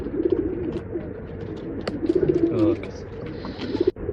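Pigeons at a sale coo in low repeated bursts, close by, with short gaps between calls and someone speaking in between.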